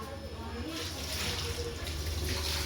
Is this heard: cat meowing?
no